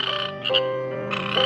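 Cartoon frog croaking in a steady run of close, loud croaks, with a short pause partway through and no talk.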